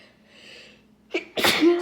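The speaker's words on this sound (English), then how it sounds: "Oh, I have to sneeze." A woman with stuffy allergies sneezes once, a sharp close burst preceded by a short nasal intake of breath, loud and alone.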